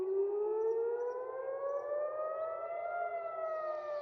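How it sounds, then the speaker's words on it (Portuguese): Air raid warning sirens wail across Jerusalem, a steady rising tone that swells slowly and holds loud and continuous with no voices. "Em Jerusalém, as sirenes de alerta para ataques aéreos soaram."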